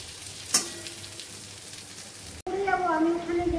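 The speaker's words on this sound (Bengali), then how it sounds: "তো চলো পটলটাকেও ভালো করে ভেজে নেই" Pointed gourd (potol) frying in a pan gives a steady, crackling sizzle with one sharp clatter near the start, followed by a voice talking over the continuing fry.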